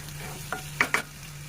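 Coconut chicken being stir-fried in a pan for a South Indian-style dish, with a low steady sizzle and three brief scraping stirs, the last two sharper and close together.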